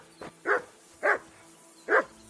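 Three sharp barks from a dog in the medieval video game Kingdom Come Deliverance, fairly close and loud, with a fainter yip at the start and short pauses between barks.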